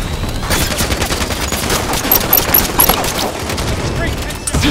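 Rapid, dense gunfire from a Team Slayer match of Halo 5 Guardians on the Truth map, with bursts and single shots overlapping continuously at steady loudness for the whole stretch.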